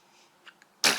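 One abrupt, loud sneeze lands close by after a couple of faint breathy sounds, set in a quiet indoor room during a crochet session.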